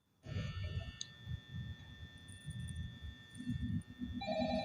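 Telephone ringing inside the horror video game Five Nights at Freddy's, a steady high electronic tone held across the clip over low muffled rumbling game noise.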